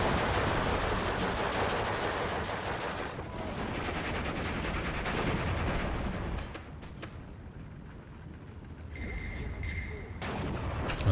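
Mortar fire in the WWII strategy game Steel Division 2, a continuous rumbling barrage of booms and blasts with distant gunfire layered throughout, steady and heavy before easing slightly near the end.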